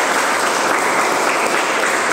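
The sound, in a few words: loud applause from students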